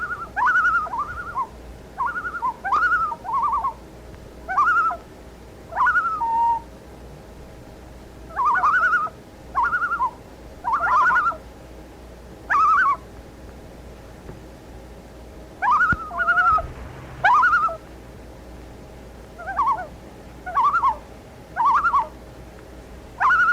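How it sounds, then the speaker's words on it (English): Loons call across Lake Temagami in northern Ontario during a canoe trip, their wavering, repeated cries coming in separate bursts over a steady low background hum, moderately close and without speech. "Look at those loons, aren't they nice?"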